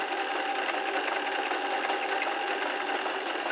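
Janome 525s sewing machine stitching a buttonhole, a steady fast whirring hum with a rapid needle rhythm running unbroken and close up, no voices.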